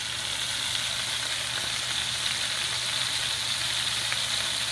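Hamburgers frying in a pan, a steady close hiss and crackle of sizzling fat that stays even and continuous throughout, with no voices.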